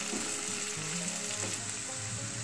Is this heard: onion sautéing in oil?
yes